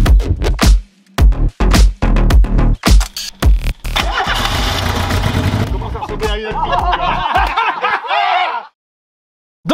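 A Renault 4L prototype race car, built for the 24-hour 4L endurance race at Pipriac, cranks in a series of loud choppy bursts, then catches and runs with a rough, revving roar for several seconds before cutting off abruptly.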